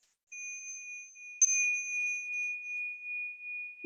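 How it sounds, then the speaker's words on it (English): A mindfulness bell is struck and rings out as a pure, sustained metallic tone. A second, brighter strike follows and hums on steadily, close and clear against silence. "I'm going to invite the sound of the bell."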